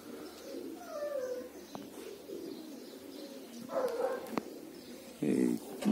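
Male pigeons coo and chirp nearby in soft bursts as they are let out to fly, with people talking over and between the calls.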